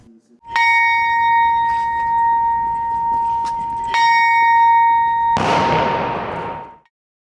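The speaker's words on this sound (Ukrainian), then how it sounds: "У меморіальному сквері пролунав за ними дзвін пам'яті." A deep memorial bell in a memorial square in Ivano-Frankivsk strikes twice, its long tone ringing on, then a loud burst of broadband noise washes in before fading to silence.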